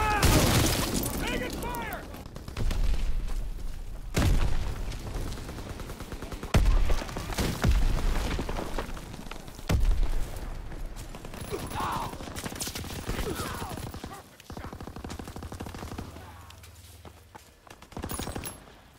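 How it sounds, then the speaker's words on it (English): Enemy bombing and gunfire in the video game World at War: bursts of shots, crashing impacts and booms come repeatedly throughout at close range, with game voices calling out over the combat. "Enemy bombing, get to cover."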